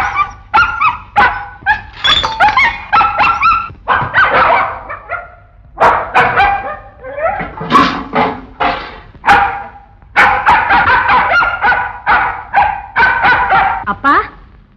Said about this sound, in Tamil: என்னப்பா இது ஏன் இப்படி குறைக்கிறது